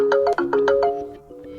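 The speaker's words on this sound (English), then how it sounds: "That's a lot of notifications" An ASUS Zenfone 8 smartphone plays a rapid run of bright notification chimes stacked one after another, clear and close, then the tones fade out.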